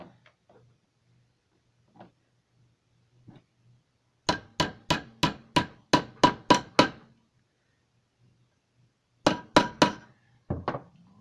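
A few faint knocks, then a rapid run of about nine sharp hammer strikes on a silverplate spoon ring, a pause, and a final cluster of four taps.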